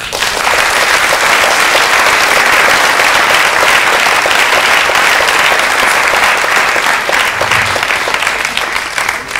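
Audience applause at a fashion show awards ceremony, loud dense clapping that runs steady and unbroken throughout without talk.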